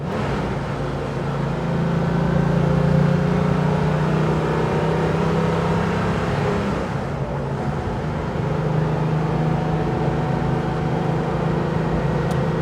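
A 1992 Porsche 911 (964) RS N/GT Clubsport engine drones steadily from inside the car on a winding road, a loud continuous hum that swells briefly as the car accelerates and then settles back. Nobody speaks.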